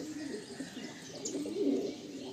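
A pair of loft-bred flying pigeons, male and female, coo softly in low, murmuring phrases against a quiet background, and no voices come through.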